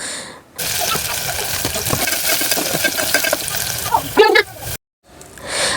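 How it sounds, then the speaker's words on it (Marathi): Onions being stirred and fried in a pan until brown, a dense close sizzle with repeated scraping stirs and a brief louder clatter before a short gap of near silence. "तर इथे ना पहिलं कांदा आपण छान असं लाल करून घ्यायचा"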